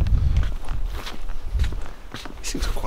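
Footsteps of someone walking off while carrying a heavy car door removed from a Toyota Corolla AE95, a steady run of near steps with faint handling noise.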